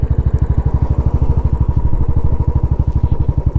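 A Royal Enfield Classic 500 motorcycle fitted with a BSA muffler rides along with a steady, loud, evenly pulsing thump of its single-cylinder exhaust, close and continuous with no talk.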